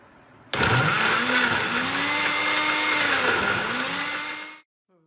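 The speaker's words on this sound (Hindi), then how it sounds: "टमाटर को ग्राइंडर जग में डालकर ग्राइंड कर लें।" Grinder jug blending cooked, softened tomatoes into a smooth puree for homemade ketchup; a loud, steady motor whine with a gradual pitch rise, running continuously for about four seconds before cutting off.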